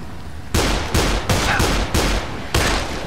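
Gunfire in the zombie video game Dead Island: five loud, evenly spaced shots about half a second apart, each with a short noisy tail.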